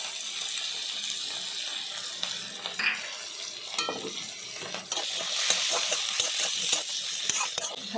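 Spiced mixed vegetables with chilli powder, turmeric and a pinch of sugar are stirred and scraped in a frying pan, with steady sizzling and repeated utensil scrapes close up, no talking.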